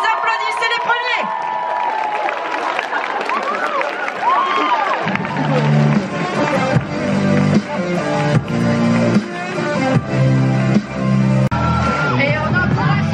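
An audience at a cosplay stage show cheers, whoops and yells as performers take the stage, the crowd noise continuing over pounding music that kicks in partway through.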